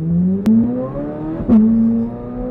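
A Corvette Z06 with an Eventuri intake and Paragon Performance exhaust growls and revs up close, with two sharp snaps as gears shift, the engine pitch climbing after each.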